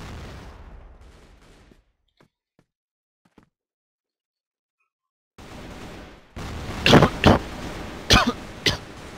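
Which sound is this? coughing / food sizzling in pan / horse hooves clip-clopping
coughing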